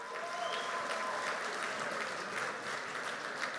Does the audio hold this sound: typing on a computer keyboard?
no